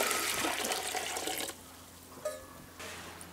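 Water pours steadily into a measuring cup for about a second and a half, then stops, followed by a couple of faint clinks in a home kitchen making piccalilli relish.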